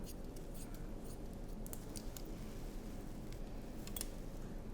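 Sharp, crisp scissor snips cut through full-volume curly hair in a salon, coming in quick irregular clusters at close range against a faint background.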